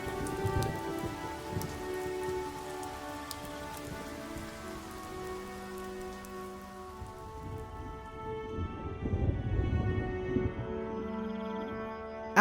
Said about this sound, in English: As the life-giving raindrops fell hitting the plants and soils